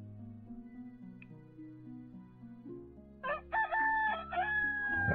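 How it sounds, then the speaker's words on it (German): A rooster in the village-building video game Towns crows over soft background music, with a single bright, wavering cock-a-doodle-doo rising clearly near the end. "der Hahn kräht"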